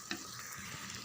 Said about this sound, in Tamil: நல்லா இந்த மசாலா கூட இந்த சிக்கனை சேர்ந்து இன்னும் ஒரு 5 நிமிஷம் தான் வதங்கட்டும்